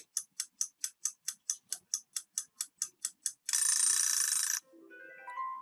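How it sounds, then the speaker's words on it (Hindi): A countdown timer in a quiz clip ticks loudly in a steady run of about fourteen evenly spaced ticks, then a roughly one-second burst of buzzer-like noise ends it, followed by a short rising chime. "तो चलिए दोस्तों हम लोग टाइमर स्टार्ट करते हैं"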